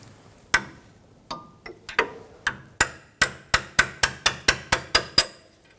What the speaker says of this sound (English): We're going to use you can use a screwdriver or a chisel, and it's a horseshoe clip.